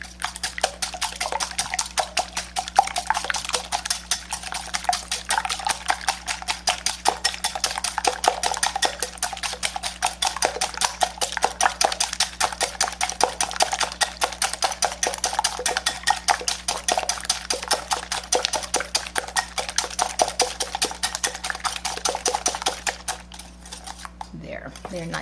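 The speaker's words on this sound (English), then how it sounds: "I'm going to start by whisking this mixture together really well." Flan custard mixture whisked in a bowl: a long run of rapid, steady metallic clicking and scraping strokes against the bowl, close and even in rhythm, with a voice talking at points.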